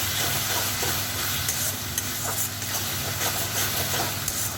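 Spice masala of turmeric, red chili powder and cumin-coriander powder fries in a pan with a steady, dense sizzle and hiss, with faint scraping of stirring underneath, continuous and close.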